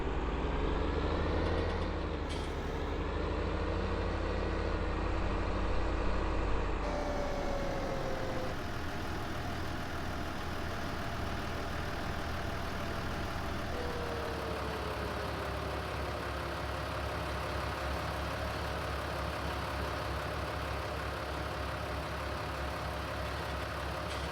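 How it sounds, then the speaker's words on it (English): Continuous rumbling tractor engine in Farming Simulator 19, steady and droning for the whole stretch, with a slight shift in pitch partway through as it keeps running. "so that you guys can hear the tractor"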